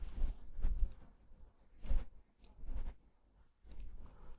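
Computer mouse clicks while working in CATIA V5 design software, sparse sharp clicks in small pairs and clusters spread across a quiet room with faint background noise.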